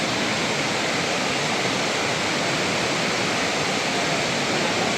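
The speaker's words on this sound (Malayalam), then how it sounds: "ഇതാണ് മുകളിലെ വെള്ളച്ചാട്ടം" The upper tier of Vattayi Waterfalls in Thrissur roars as a dense, steady rush of falling water, loud and close with no break throughout.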